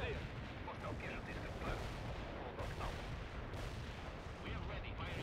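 Soviet assault battle in the World in Conflict war game: a dense, continuous roar of distant gunfire and artillery rumbling without pause, with faint voices mixed into the din.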